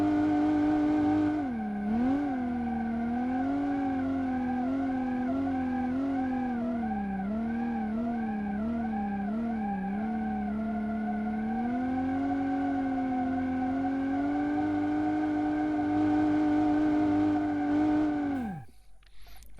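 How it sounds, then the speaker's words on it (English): In BeamNG.drive, a car's engine drones and wavers at high revs through a long burnout, the pitch wobbling and swelling for most of the run before cutting off abruptly near the end. "Alright, it does good burnouts."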